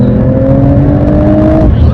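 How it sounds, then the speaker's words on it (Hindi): Heavy car traffic on an expressway toward Mumbai, India, with a loud, steady engine roar and a whining tone that holds and then fades out, while someone talks over it. "बहुत ट्रैफिक है"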